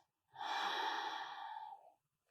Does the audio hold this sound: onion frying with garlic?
no